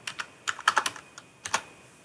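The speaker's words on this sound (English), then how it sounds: "I'll simply type the IP of member server" Short bursts of keys tapped on a computer keyboard as an IP address is typed, a quick uneven cluster of crisp clicks followed by a pause and a final pair of taps, close and alone.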